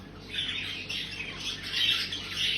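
A show-quality budgie cock bird squawks and chatters continuously at close range, with bright, scratchy calls rising and falling without pause.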